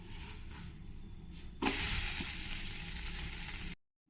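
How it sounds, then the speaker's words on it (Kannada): Moringa roti sizzles on a hot tawa, a soft steady frying hiss that jumps louder after the roti is flipped, then cuts off abruptly. "ಈಗ ಇನ್ನೊಂದು ಸೈಡ್ ಕೂಡ ಅದನ್ನು ಟರ್ನ್ ಮಾಡಿ 2 ಕಡೆನೂ ಬೇಯಿಸ್ಕೊಳ್ಳೋಣ"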